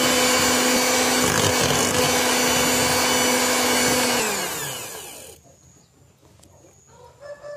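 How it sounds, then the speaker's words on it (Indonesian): Electric hand mixer beating batter for pineapple tart cookies, a loud steady whirring drone that winds down and stops after about four seconds, leaving quiet room sound and a few faint clinks. "Kocok sampai halus."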